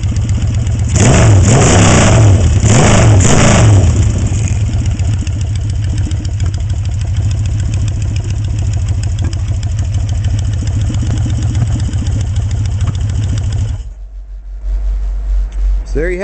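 Rephased Yamaha XS650 motorcycle engine with a 277 degree rephase, running loud and close: a few sharp throttle blips early on, then a steady lumpy idle before cutting out near the end.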